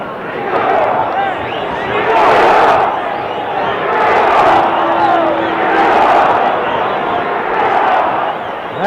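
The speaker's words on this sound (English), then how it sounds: "you hear the crowd picking up the chant for Ringo now" A large arena crowd at the Muhammad Ali versus Oscar Bonavena boxing match roars and chants in swelling rhythmic waves, loud and sustained, with a commentator's voice faintly underneath.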